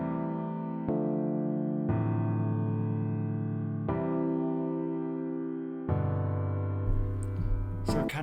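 A grand piano plays sustained chords and a repeating inner figure against an electric piano, the two layered closely in a steady, even mix with no voices.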